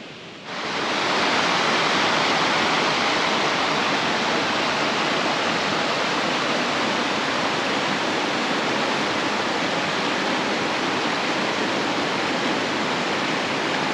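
The Verzasca River rushes across a river ford, a loud, continuous roar of flowing water that stays close and steady throughout, with no voices.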